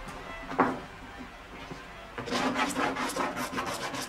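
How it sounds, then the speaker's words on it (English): Beeswax rubbed onto a walnut backing piece, then smoothed with a hot iron in a cabinet-making workshop: a soft thump, then a steady scraping, rasping rub that grows louder and rhythmic in the last two seconds. "rubs beeswax onto the swarf or backing piece and smooths it with the hot iron"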